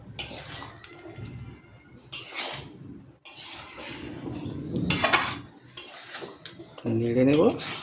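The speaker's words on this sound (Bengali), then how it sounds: "একটু নেড়ে দেবো এটাকে।" Chicken is stirred in a pan over a medium flame, with a spoon clinking and scraping against the metal in separate bursts between quieter pauses, close by, and a voice is briefly heard.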